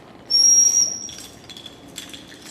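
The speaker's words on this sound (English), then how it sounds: "This next whistle was made in Japan, and it's made out of a stone called soapstone" A Japanese soapstone good luck whistle shaped as two fish gives one sustained high, clear tone, loud and steady for about half a second, then fades into quieter fluttering whistled notes with no talking.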